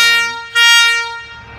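Diesel railcar local train 432 on the Khon Kaen to Kaeng Khoi line sounds a short, loud, close horn blast as it leaves the station, with the tone shifting midway and then fading.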